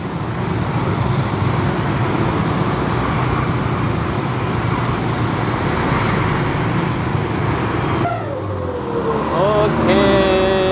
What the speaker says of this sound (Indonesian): macet.